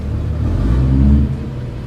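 A 700hp Cummins diesel truck revs its exhaust nearby, a loud, deep rumbling surge that builds for about a second and then drops back to a lower idle.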